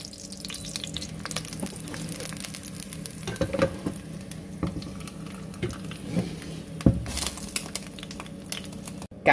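Onions frying in hot oil in a pan while a carp steams nearby, giving a steady close sizzle with intermittent scraping stir sounds and a brief clunk near the end.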